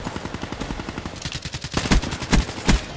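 Rapid automatic gunfire in Black Ops 3, a fast rattling burst close up followed by several louder, heavier individual shots spaced apart, with no talking over it.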